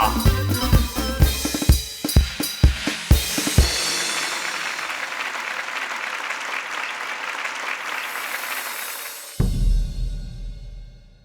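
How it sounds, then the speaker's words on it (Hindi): Circus audience applauding the artists, loud rhythmic drum hits at first giving way to a long, full wash of crowd clapping that cuts off abruptly near the end. "तो तालियों से स्वागत कीजिए हमारे इन होनहार आर्टिस्ट का।"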